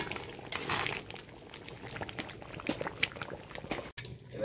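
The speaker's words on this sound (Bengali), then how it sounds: "সয়াবিনের তরকারিটা একদম ফুটছে" A soybean curry bubbles steadily in a pot, a dense, continuous boiling and gurgling with occasional louder pops, close by and heard with no talk over it.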